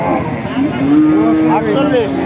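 A Deshal-breed dairy cow, kept with her young calf at a cattle market, gives one loud, close, drawn-out moo that rises and wavers over about two seconds, with no one speaking over it.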